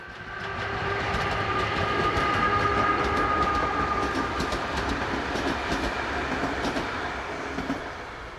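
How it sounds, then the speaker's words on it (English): Slovak Class 263 electric locomotive 263011 hauling Class 671 EMU cars on a stopping service from Bratislava to Nové Zámky, rolling past with a steady loud rumble, wheel clatter and squealing tones, swelling and fading. "we see 263011 hauling vehicles from a Class 671 EMU on the 1107 stopping service from Bratislava to Nové Zámky"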